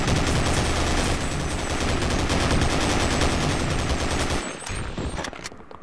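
Rapid, dense automatic AK rifle fire in the horror video game Afraid of Monsters, a loud continuous burst lasting several seconds before cutting off abruptly into quieter game ambience.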